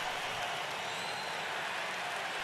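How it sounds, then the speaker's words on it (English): A video game hockey crowd gives a steady, continuous roar, a broad wash of arena noise that holds level from start to finish with no distinct voices. "Crowd roaring"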